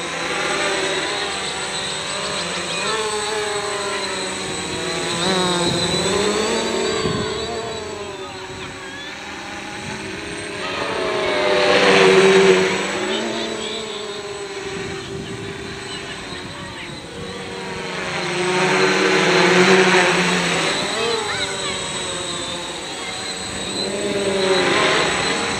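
A HK X650F multirotor drone with new ESCs, a NAZA Lite controller, 4S battery and 10x4 propellers flies nearby, its steady motor whine swelling and fading as it maneuvers, with faint talk underneath.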